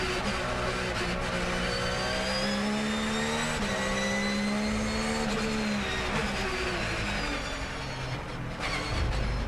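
A Porsche GT1 race car accelerates hard out of a corner at the Nürburgring, its engine note rising steadily through the gears with a brief dip for a shift, loud and continuous over track ambience.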